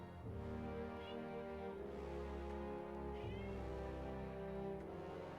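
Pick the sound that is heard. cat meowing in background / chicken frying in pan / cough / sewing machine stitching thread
cat meowing in background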